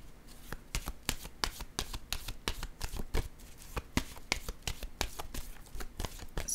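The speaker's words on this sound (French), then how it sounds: "Je vais piger une autre carte." Tarot cards being shuffled by hand, a fast series of sharp crisp riffling snaps in a steady rhythm, close and clear with no talking.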